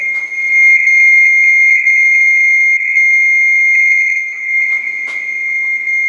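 DCF77 German longwave time signal at 77.5 kHz from a transmitter near Frankfurt, rendered as a loud steady electronic tone with faint overtones that pulses briefly once per second, holding alone throughout.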